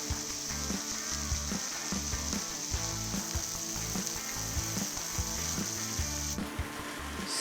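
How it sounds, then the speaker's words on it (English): A steak's fat cap sears in a hot pan, hissing with a loud continuous sizzle and crackle close by, with rhythmic scraping or knocking underneath and no talking. "Sear that fat cap."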